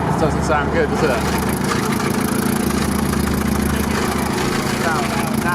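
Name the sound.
car engine running rough after overheating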